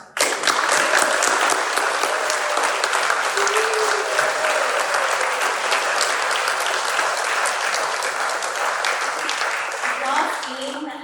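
A gallery crowd applauds at an art exhibition's opening night, dense sustained clapping filling the room for about ten seconds before tapering slightly at the close.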